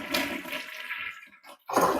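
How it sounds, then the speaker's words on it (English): A household toilet on a septic system flushes nearby, a loud rushing swirl of water that fades to a brief gurgle before a renewed surge of refill water. "drop it in your toilet and flush."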